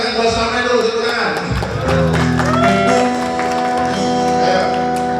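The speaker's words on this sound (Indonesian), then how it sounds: "tepuk tangan kalau sampai dulu, tepuk tangan." Audience clapping and crowd noise at a Maulid Nabi religious lecture in a housing estate, a steady loud wash of applause blended with voices and music throughout.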